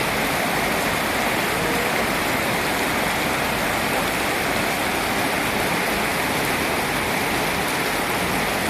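Heavy rain pours down on a street in Soi 55 while runoff water rushes along the ground, a dense, loud, unbroken hiss and splash with no voices.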